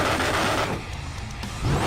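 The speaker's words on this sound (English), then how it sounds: "while revving the car" A muscle car's engine revs in NFS Most Wanted, a loud broadband roar that dips midway and swells again at the end.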